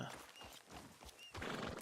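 A horse in the video game Red Dead Redemption 2 gives quiet hoof clops and snorts in a brief faint burst.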